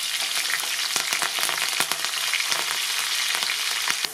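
Curry leaves and green chillies frying in hot oil in a pan for crab sukka, a steady loud crackling sizzle dotted with sharp spitting pops throughout.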